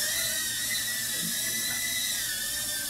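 An Eachine E012 mini quadcopter drone flies with its tiny motors giving a continuous high-pitched whine, steady and fairly loud throughout, with no talking.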